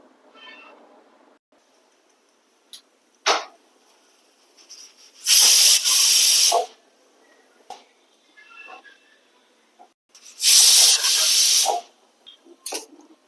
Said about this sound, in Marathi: एक शिट्टी याची करून घ्यायची